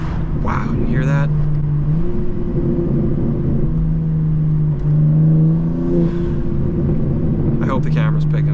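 A steady, close 800-horsepower twin-turbo BMW M2 (G87) engine drone while accelerating, with a faint rising turbo whir, speech-like bursts at the start and end over the engine.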